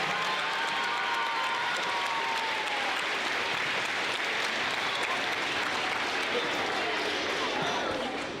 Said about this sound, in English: let's give Mrs. Sulentrop a big round of applause